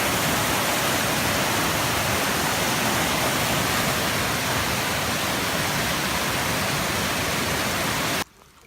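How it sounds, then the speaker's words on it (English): A fast-flowing creek rushes loudly past a house, a dense continuous roar of water that cuts off abruptly near the end. "So this creek was just rocking and rolling."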